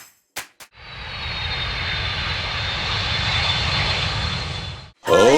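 An airplane engine drones steadily overhead for about four seconds, a smooth sustained hum with a faint high whine. Short clicks come before it and a loud burst of sound cuts in at the end.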